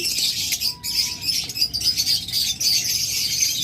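Double factor spangle budgerigar pair in a cage giving light chirps and tweets, mixed with the busy chatter of many other cage birds, steady and fairly close.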